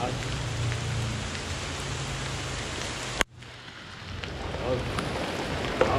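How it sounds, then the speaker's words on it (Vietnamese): Rain falls outdoors as a steady hissing wash, broken by a brief sharp knock and a sudden drop midway before the patter builds back up, with no voices. "Mưa rồi anh em ơi."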